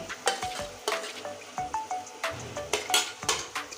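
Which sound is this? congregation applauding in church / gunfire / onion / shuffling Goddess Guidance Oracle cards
onion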